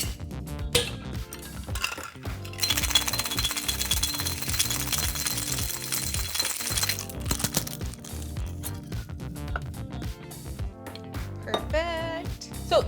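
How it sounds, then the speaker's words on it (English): A cocktail shaker packed with ice and paloma ingredients is shaken briskly, giving a steady, dense rattle of ice clinking against the tin for several seconds, loud and close with no talking. "we're just gonna throw some ice in and give it a quick shake."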